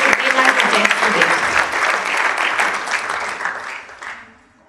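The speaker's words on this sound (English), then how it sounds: "Can we please have a round of applause for these gentlemen and ladies who made so much of an effort to be our guests today." Audience clapping at an award ceremony, dense and lively at first, then gradually thinning and fading out over a few seconds.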